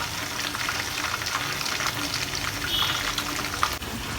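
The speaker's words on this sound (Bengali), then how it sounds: "তাই রোস্টের মাংস ভেজে নিতেছি।" Beef pieces for a roast fry in a pan of oil in a home kitchen, a loud continuous crackling sizzle that swells and eases as they are stirred.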